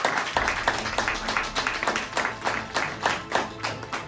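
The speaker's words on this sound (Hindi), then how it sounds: "जोरदार ताली हो जाए।" A crowd at a company anniversary event claps loudly in a rapid, rhythmic burst that holds for about four seconds, with no voices over it.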